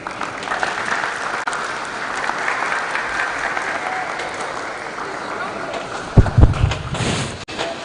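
An audience at a developer conference claps after a presentation, a steady spread of applause from a moderately sized crowd with a few louder knocks and thumps near the end.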